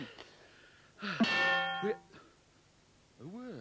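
Hand bells clang with a bright ringing tone that sustains for about a second, framed by short bursts of talk before and after.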